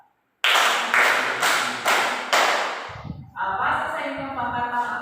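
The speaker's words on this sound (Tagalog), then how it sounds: "Mga bata, bigyan ninyo ng limang palakpak ang pangkat isa." Children in a classroom clap in unison five times, sharp, loud and evenly spaced, then the claps give way to a voice speaking and more scattered sound.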